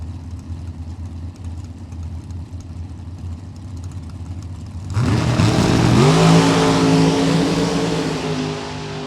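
Top-fuel style dragsters launch side by side down a drag strip at a World Super Pro Challenge event, a quiet stretch giving way to a sudden loud roar of revving engines that climbs steadily in pitch and holds near and powerful.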